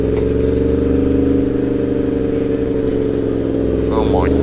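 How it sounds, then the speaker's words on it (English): Yamaha MT-10 motorcycle with a loud aftermarket exhaust filtering through traffic, a steady deep droning engine note close by with a brief higher rev near the end, wind buffeting underneath. "That's why you gotta have loud exhaust so people know you're coming up."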